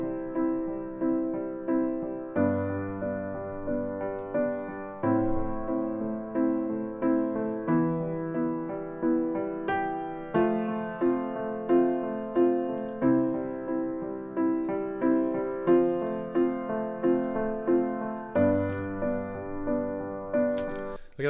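Logic Pro 11's Session Player keyboard plays the Pachelbel's Canon chord progression, a steady loop of sustained, evenly paced chords on a synth-keyboard sound, loud and clear with no voices.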